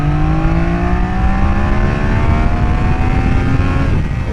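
Triumph Daytona 660 motorcycle engine revving high while downshifting into third on a ride, a loud sustained roar with falling and rising pitch sweeps, close and continuous with no talk.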